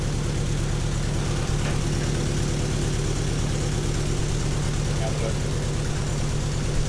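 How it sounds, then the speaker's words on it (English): A turbocharged car engine with an exhaust leak idles with a low, rapid pulsing rumble and a breathy, puffing exhaust noise, steady and close throughout. "the exhaust is blowing from there"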